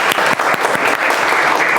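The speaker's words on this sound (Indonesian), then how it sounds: "Tepuk tangan buat kalian semua." A classroom of students breaks into loud, close applause, a dense and continuous burst of clapping lasting under two seconds.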